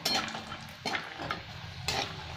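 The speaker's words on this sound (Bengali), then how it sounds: "এখন আমার তেল গরম হয়ে গেছে, চিনে বাদামগুলো দিয়ে দিলাম" Raw peanuts tipped into hot oil in a wok, frying to a reddish brown for an evening snack, give a steady close sizzle with two sharp bursts as more nuts land, alone with no talk.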